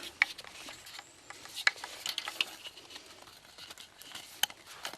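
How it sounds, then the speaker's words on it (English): Collapsible bow saw in an H-type frame being put together, with scattered small clicks, ratcheting ticks and light metal taps at close range, faint and irregular, with no talk. "I've actually got a collapsible bow saw, so I can carry it on hikes easily"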